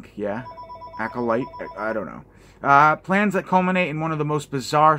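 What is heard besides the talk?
telephone ringing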